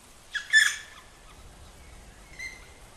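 Young birds call from a nest in a forest, with a sharp squawking burst followed by a quieter, thinner call a couple of seconds later, fairly close, with no voices.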